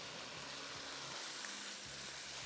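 Balochi tikka karahi stirred in a hot wok, giving a steady broadband sizzle with faint scraping and stirring underneath, close and continuous with no speech.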